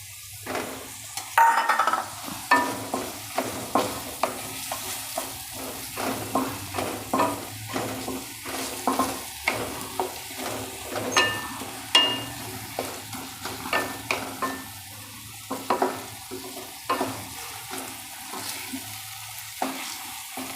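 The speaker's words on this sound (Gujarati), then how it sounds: "થોડુંક સતડાઈ જાય પછી એમાં આપણે કાંદા નાખી દઈશું સૂકા કાંદા" Dried onions frying and being stirred in a pan for a Gujarati cheese paneer gotalo, a steady sizzle broken by repeated close scraping strokes of a spoon against the pan throughout.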